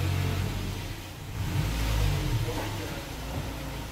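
A small pink car drives onto a garage lift, its mid-pitched engine revving up and easing off steadily at close range with no talk over it.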